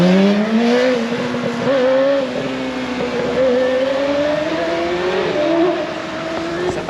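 Yamaha R6 motorcycle engine revving steadily with rising and falling pitch, a loud close buzzing drone that holds for several seconds with no break.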